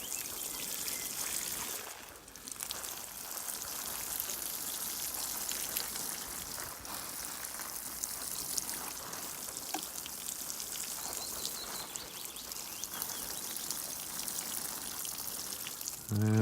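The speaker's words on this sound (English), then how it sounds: "So now I'm just using my fertiliser to water my tomatoes and" Homemade nettle fertiliser is poured from a watering can onto tomato and cucumber plants, a steady close splashing and trickling patter that runs on with no talk.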